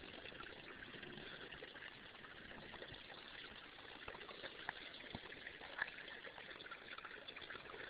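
Rainwater runs down a stream beside a mountain bike trail at Mission Trails in San Diego, California, a steady close rush and trickle flowing evenly throughout with no voices.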